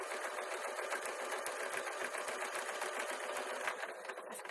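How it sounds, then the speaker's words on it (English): A sewing machine top-stitches a thick, fat fabric nut tray with taffeta, running in a steady, close, continuous mechanical whir with no pauses and no talking. "So I've sewn up the hole and I've started doing my top stitch."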